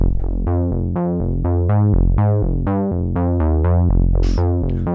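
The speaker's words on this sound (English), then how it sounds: "The sound source we're going to use today is a sequence from my Moog Sub 37." A Moog Sub 37 synthesizer bass line pulses in a fast repeating sequence of punchy, buzzy notes, loud and steady, with a brief noisy burst near the end.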